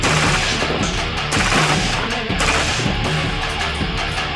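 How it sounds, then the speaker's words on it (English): An MP5 submachine gun firing full auto on a blank-fire range, a dense, continuous stream of loud, close bursts with no pause across the whole stretch. "let you rip the rest of the magazine in full auto"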